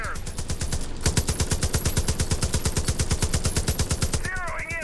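Sustained automatic gunfire from strafing in Far Cry 5 pounds out fast, evenly spaced rounds for nearly five seconds, loud and continuous, with brief game sound effects at the start and end.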